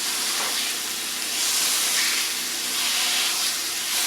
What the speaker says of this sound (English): Fry it like a burger. I would even press it down kind of thin.